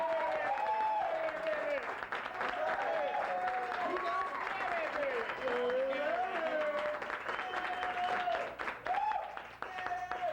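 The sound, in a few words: audience applause for a comedian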